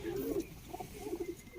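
A pet pigeon coos in low, throaty repeated phrases close at hand, several bursts in quick succession with no talk over them.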